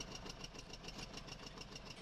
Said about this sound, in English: I think there's a small donkey engine on there just to get the thing going